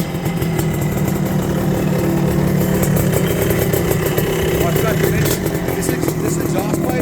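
Engine of a 1975 Bultaco Pursang 250 two-stroke motorcycle fitted with an NOS exhaust pipe, running steadily and loud at close range with a continuous buzzing drone throughout.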